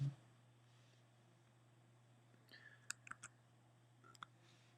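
Computer keyboard keys are pressed for a shortcut, a handful of faint, sharp clicks in a small cluster over a steady low hum.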